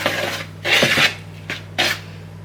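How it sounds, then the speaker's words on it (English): Carrot cake cupcake batter being stirred in a bowl, heard as a few close, rough scraping strokes in short bursts with quieter pauses between them. "I'm just going to mix all this in now."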